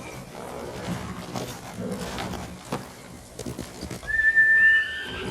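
A horse whinnies in the video game Ghost of Tsushima on Iki Island, a high neigh near the end over soft ambient game sounds and hoofbeat-like thuds.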